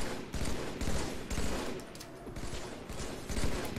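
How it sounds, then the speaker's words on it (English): Rapid gunfire in the online multiplayer video game Halo 3 on a big open map, a dense, continuous barrage of automatic shots with brief lulls, fairly loud throughout, with no talking. "Getting shot at from behind."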